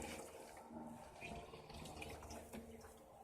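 A twin tub washing machine draining water into a bathtub, a continuous close gurgling rush of flowing water with no talking.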